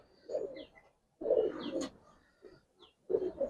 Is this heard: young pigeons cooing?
yes